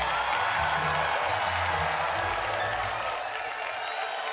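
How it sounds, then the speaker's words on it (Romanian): Studio audience applauding a comedian's stage entrance at a stand-up comedy show, steady dense clapping sustained throughout with faint background voices underneath. "Aplauze pentru Alexandru Țiprov"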